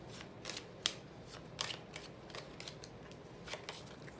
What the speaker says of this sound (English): Take a deep breath and just shuffle the cards for a few minutes.